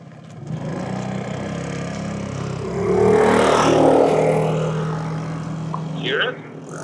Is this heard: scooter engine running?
yes